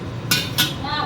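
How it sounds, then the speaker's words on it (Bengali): Meat being sautéed and stirred in a pan, with two sharp metallic clanks of a utensil against the pan over a soft background of cooking noise. "এই যে মাংস কষানো হচ্ছে"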